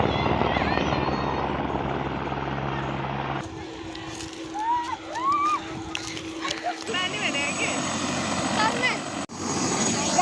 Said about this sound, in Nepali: हाम्रो त घरको बारीमै कब हेलिकप्टर आउँछ है देख्न सक्नुहुन्छ